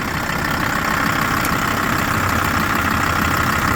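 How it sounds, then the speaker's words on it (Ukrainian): A 2004 Volkswagen LT46 van with a 2.5-litre, 80 kW engine idles steadily and evenly nearby, a continuous low rumble with no talk over it. "Заведений двигун."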